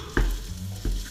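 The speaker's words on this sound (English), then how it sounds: "the frying starts to get a little bit louder" Minced meat frying in a pan for a farfalle bolognese, a soft sizzle with two sharp clatters of a utensil about two-thirds of a second apart, heard close with no talking.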